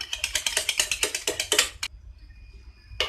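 Curd being beaten in a bowl with roasted cumin powder and chaat masala for dahi puri, heard as a rapid rhythmic run of sharp clicking strokes that stops abruptly, then one more stroke.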